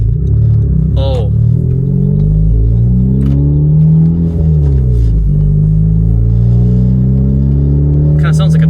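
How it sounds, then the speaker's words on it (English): A Honda Civic Type R driving with its muffler missing gives a loud, steady, throaty engine drone with rising and falling pitch and some rumble, while a person talks over it. "I have no muffler right now, so let's listen to it."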